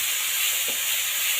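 Tomatoes hiss and sizzle steadily in hot oil in a small home kitchen, a close, continuous frying sound with no talk.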